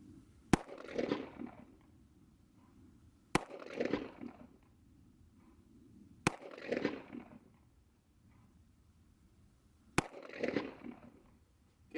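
Four sharp, loud Taurus PT 92 pistol shots fired at targets 40 feet away on a shooting range, spaced a few seconds apart, each followed by a brief echoing tail.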